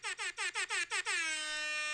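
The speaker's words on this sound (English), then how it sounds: "it's called a rap air horn" A rap-style air horn sound effect fires from a soundboard as six quick stuttering blasts followed by one sustained honk, bright and loud, alone without talk.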